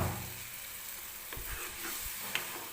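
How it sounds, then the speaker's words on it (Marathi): Potato curry frying in a pan gives a steady sizzle, with a few stirring scrapes and clinks as water is poured in near the end. No one speaks. "मिक्सरच्या भांड्यात थोडंसं पाणी टाकून घेतलं आणि ते पाणी मी या कालवणामध्ये टाकणार आहे."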